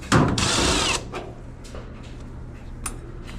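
Power drill backing out short screws from the control circuit board of an LG dryer, one loud close whirring burst of about a second, then quiet clicks and small handling taps.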